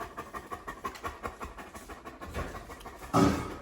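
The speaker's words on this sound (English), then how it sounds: "He's actually cold, so he's just panting a lot." A large German Shepherd pants heavily nearby in quick, rhythmic breaths, steady for a few seconds before a louder burst of noise at the end.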